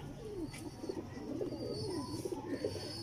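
Soft, low dub pigeon cooing repeats steadily over a quiet background hiss, with faint chirps now and then.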